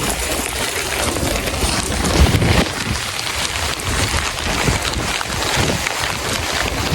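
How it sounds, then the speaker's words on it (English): Heavy rain falling outdoors beside a creek, a loud dense hiss of drops with gusty wind buffeting the microphone, continuous and close throughout. "I'm gonna go check on the creek because it's raining heavy"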